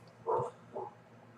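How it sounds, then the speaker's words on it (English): Two short, muffled barks from a dog in the Dead Frontier survival game, the first louder and the second softer, over a low steady background hum. "Dog's going nuts."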